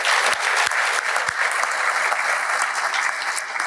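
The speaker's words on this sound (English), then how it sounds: "I think we can give the speakers another round of applause." Symposium audience in an auditorium gives the speakers a sustained round of applause, dense steady clapping from many hands throughout, with no talk over it.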